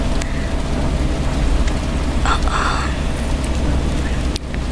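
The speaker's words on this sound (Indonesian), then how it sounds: "hujannya masih terlalu deras gak sih guys?" Heavy rain drums steadily on a car from inside the cabin, a dense, constant patter that fills the whole stretch without a break.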